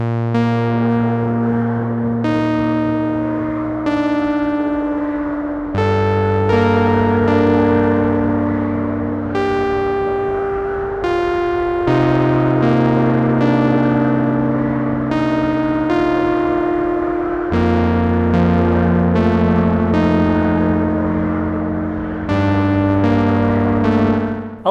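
Oracle synthesizer playing its ghost chatter preset, a steady sequence of sustained layered tones that change pitch every couple of seconds, loud and continuous with no talking.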